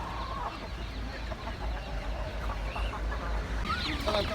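Several chickens cluck and murmur close by at a poultry market in Taşköprü, Kastamonu, Turkey, over a steady low background hum, with a few sharper squawks near the end.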